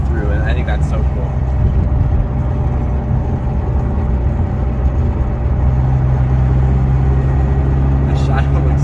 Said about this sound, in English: you can actually hear the air coming through